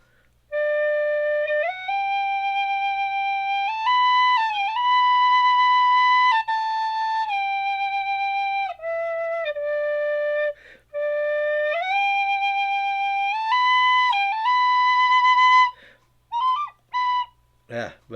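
A Clarke tin whistle plays a simple melody of sustained, bright notes with short pauses between phrases, ending in a few quick broken notes.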